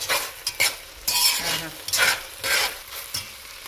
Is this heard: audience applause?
no